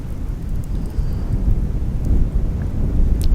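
Strong wind buffets a campsite, a loud, steady low roar that swells slightly over a few seconds, with no voices.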